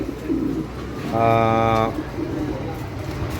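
A male pigeon at a pigeon farm gives one clear, resonant coo lasting under a second, heard close by amid background noise, with a voice speaking around it.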